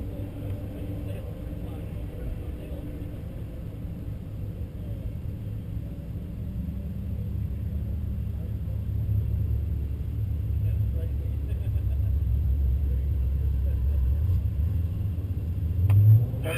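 High-powered American V8 race cars and German sports cars such as BMWs and Porsches at Road Atlanta: a distant, steady engine drone that swells slowly and peaks near the end, with a commentator talking over it.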